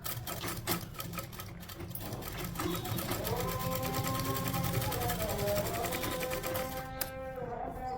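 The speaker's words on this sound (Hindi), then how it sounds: "अब हम एक टॉप स्टिच लगा देंगे जिससे हमारा जो नेक है वो सेट हो जाए।" A sewing machine top-stitches around a blouse neckline in a steady, rapid mechanical chatter that stays close and continuous throughout.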